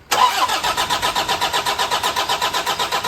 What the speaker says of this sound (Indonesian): Untuk mesinnya kita mau coba hidupkan.